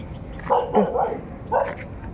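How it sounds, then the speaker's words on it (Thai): A dog barks at a Thai morning market, giving a few short barks at moderate distance in two clusters over low background noise. "เห่าไม่รู้ หมาใครก็ไม่รู้แหละ"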